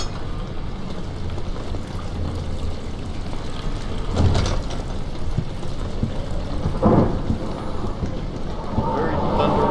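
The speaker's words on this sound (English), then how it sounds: "Very thundery and windy." Steady rain with wind in a dark Amnesia game setting, broken by rumbling thunder swells and a sharper crack, continuous and fairly loud, with a voice speaking over it.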